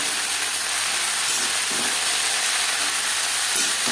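Cauliflower hitting hot oil already frying cumin seeds and green chilli, giving a steady, dense sizzle and hiss that holds evenly throughout with no voices.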